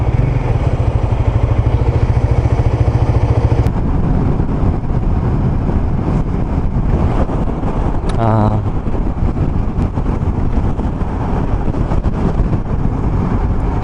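A motorcycle engine drones steadily while riding across a bridge over the Han River, heavy wind buffeting the microphone, loud and close, with a brief whistling tone partway through.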